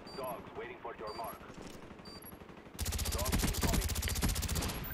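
Sustained automatic gunfire in the shooter game Call of Duty: Black Ops, with rapid bursts growing louder and denser partway through and continuing to the end, over game sounds.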